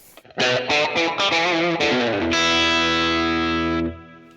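Electric guitar through a UAD Fender Tweed '55 5E3 Deluxe amp emulation, a quick run of plucked notes followed by a sustained, slightly distorted chord ringing out, close and loud with no talking.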